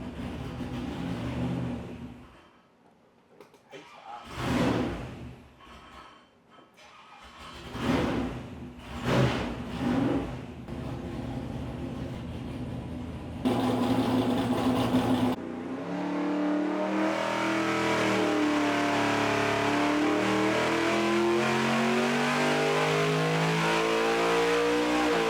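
A 416 LS3 V8 on an engine dyno, with several short sharp throttle blips and revs separated by idle gaps, then a long sustained high-rpm pull whose pitch climbs steadily, loud and close.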